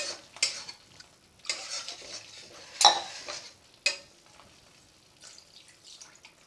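Water from rinsing a mixer jar poured into a capsicum paneer curry in a pan, heard as several short bursts of splashing and bubbling with a clink of utensils, fairly quiet with gaps in between.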